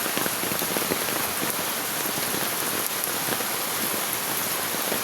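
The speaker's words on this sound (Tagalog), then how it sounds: "Ayan, ang lakas pa rin po ng ulan." Heavy rain pouring down steadily, a dense, loud and even hiss of drops hammering surfaces close by, with no voices.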